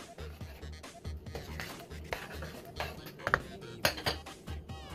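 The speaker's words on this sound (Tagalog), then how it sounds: "Tapos haluin natin." Thai tom yum soup is stirred in a pot, with a utensil clinking and scraping against the metal in irregular taps and a few sharper knocks, close and fairly quiet.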